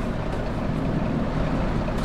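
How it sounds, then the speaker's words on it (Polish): A Peterbilt 379 truck engine in American Truck Simulator rumbles as a steady, loud, close low drone that holds constant throughout, with no talk. "żeby właśnie zaprezentować Wam dźwięk tego silnika"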